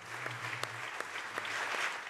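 A standing ovation for Lyon's newly elected mayor, the city's first Armenian mayor: a faint, steady wash of clapping from a crowd with a few sharper claps standing out, and no talk over it.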